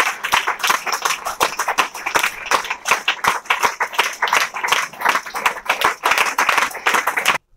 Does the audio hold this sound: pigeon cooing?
no